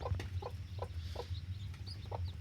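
Native Siruvidai mother hens cluck softly in a regular run of short calls, fairly near and with no voices.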